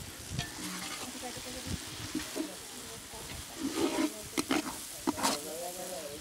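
Mutton masala stirred and frying in a pot for a Warli Adivasi wedding feast in Maharashtra: steady sizzling with scraping and clattering ladle strokes against metal, and people talking nearby.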